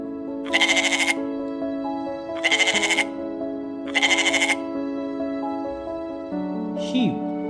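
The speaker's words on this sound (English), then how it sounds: "A goat bleats." A domestic goat bleats three times in an even, spaced rhythm, each call loud, nasal and wavering, heard close and alone over a steady sustained tone, with a short higher cry at the end.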